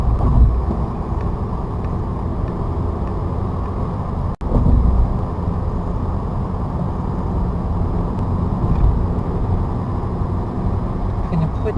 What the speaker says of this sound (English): I'm going to put it to fourth gear